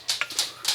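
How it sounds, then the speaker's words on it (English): A dog whimpers in a home kitchen while soup is being made, giving a few short, high-pitched whines in quick succession, close by and moderately loud. "Okay, I got dogs now."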